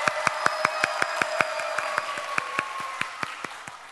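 Applause from a crowd of children at a summer worship service, sharp claps recurring steadily over a continuous bed of cheering and crowd noise, close and fairly loud, with no one speaking.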